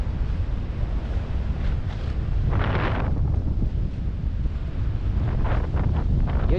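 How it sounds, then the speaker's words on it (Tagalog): Strong wind buffets the microphone in a constant loud low roar, with gusty surges throughout, near the sea at Mariveles, Bataan. "Grabe kalakas ng hangin."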